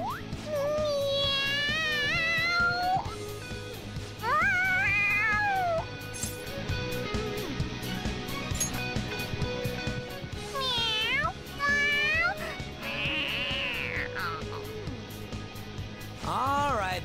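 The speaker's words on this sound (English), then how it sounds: "The cat's acting awfully excited." A cat in the video game Persona 5 meows excitedly and repeatedly, with loud rising and falling cries spread across the stretch over a steady background of game music.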